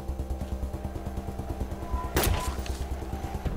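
Gunfire in the video game Wasteland 2, with regular muffled thumps of shots in a steady rhythm and one louder, sharper burst midway, all fairly quiet.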